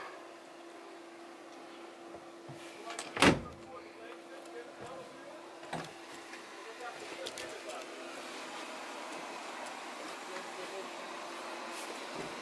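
The door of a Knaus L!ve Wave 700 motorhome shuts once with a single sharp thud. A steady, low background hum carries on after it.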